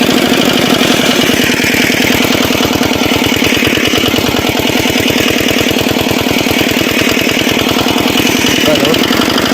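A homemade nano tractor for farm work runs with a steady, loud, rapidly pulsing small-engine chug, close up and continuous throughout with no talking.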